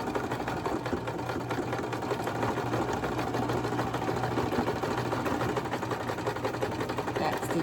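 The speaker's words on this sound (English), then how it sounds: "Back stitch." Sewing machine back stitching through a dish drying mat being made into a basket, a steady continuous motor whir with rapid needle chatter running close and loud throughout, no talk.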